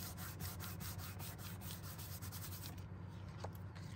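Steady rubbing across the back of a paper card layout with flowers, close and continuous hand strokes for nearly three seconds before easing off into quieter, sparser touches.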